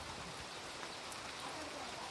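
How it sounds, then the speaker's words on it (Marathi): Heavy rain pouring down, a dense, unbroken hiss of water drumming on surfaces, steady throughout. "तर आता एकदम जोरात पाऊस आलेला आहे बघा."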